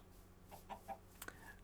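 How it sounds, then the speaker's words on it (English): Chickens in the video game Minecraft, version 1.9, giving a few soft clucks in a short spaced sequence, faint and alone. "Hello, chickens."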